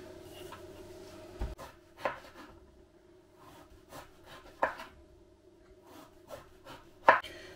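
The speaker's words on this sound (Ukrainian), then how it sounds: "Гарбуз нам потрібно почистити від шкірочки." Pumpkin being peeled with a knife for a layered pumpkin pie, giving soft rasping scrapes with a few sharper cutting knocks at irregular intervals, close and fairly quiet, no talk.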